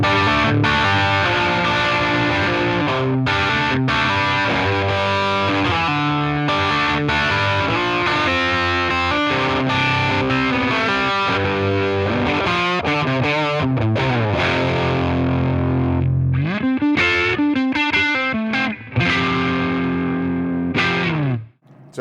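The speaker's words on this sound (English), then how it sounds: "So that's an amp cranked." An electric guitar played through a cranked Line 6 Catalyst digital amp set for high gain gives thick, distorted chords and riffs, loud and continuous, then choppier stabs near the end before cutting off.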